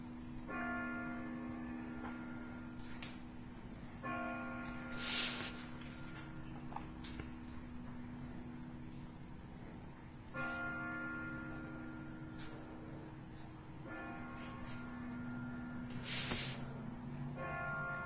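Bells ring in slow, repeating struck tones that hum and sustain, separated by pauses, with faint hiss and occasional bright shimmers over quiet background.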